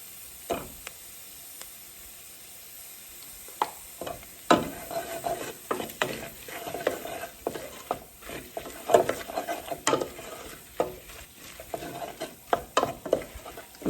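Curry powder and turmeric cook down with tomato paste in a pot for Caribbean curry goat, giving a soft close sizzle broken by repeated scrapes and knocks of a spoon stirring, with no talk.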